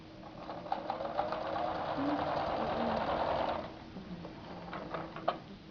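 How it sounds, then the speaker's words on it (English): A sewing machine runs steadily while stitching straight through folded fabric, a continuous mechanical whir lasting about three and a half seconds before slowing into lighter intermittent clicks and taps. "And continue sewing straight through."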